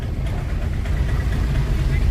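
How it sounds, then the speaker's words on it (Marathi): A steady, low, close engine rumble from an Eicher truck on a sea crossing near Kochi, with a voice talking over it. "हा आयशर चाललाय"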